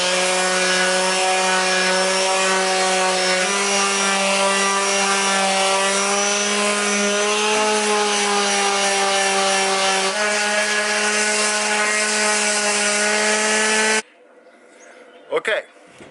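A power tool sanding paint off wood runs steadily for about fourteen seconds with a strong whining hum and shifting pitch, then cuts off, followed by brief scraping.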